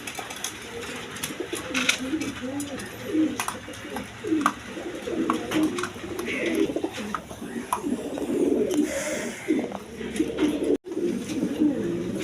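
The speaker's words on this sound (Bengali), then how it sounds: "এখানে এক পেয়ার রেশার কবুতর আছে ব্ল্যাক কালারের রেশার কবুতর" A pair of large black racing pigeons coo in low, throaty, repeated calls at close range, continuing steadily through the stretch along with a little other bird sound, no talk audible.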